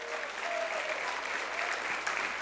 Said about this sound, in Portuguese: Você pode aplaudir ao Senhor por esta palavra?